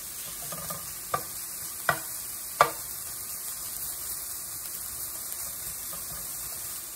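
Bacon sizzling and frying in a pan for carbonara, a steady close hiss with a few sharp clicks from utensil strokes early on, no talk.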